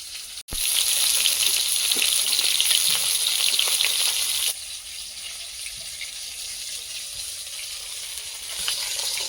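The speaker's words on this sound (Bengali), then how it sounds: "মাছগুলো লাল লাল করে ভেজে নিয়েছি, এবার তুলে নেব।" Pieces of shol fish deep-fry in hot oil in a pan, giving a steady, loud, close sizzle that runs throughout and drops slightly in level midway.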